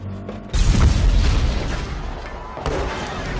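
A heavy, booming explosion in a film as a residence blows up, erupting abruptly and rumbling on loudly, with a second blast-like surge a couple of seconds later amid dense roaring noise.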